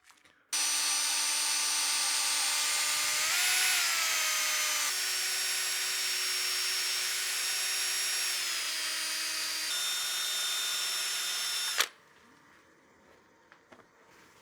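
A lathe spins a partially seasoned wooden bowl while sandpaper is held against it, making a loud, sustained whine that shifts in pitch for about eleven seconds before stopping sharply.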